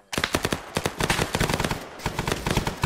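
Rapid machine gun fire in SOG Prairie Fire, a loud sustained burst of closely spaced shots with brief gaps, alone without talk.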